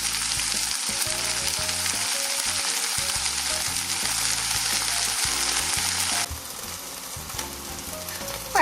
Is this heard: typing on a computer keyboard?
no